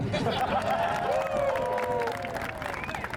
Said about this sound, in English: There should be an applause there.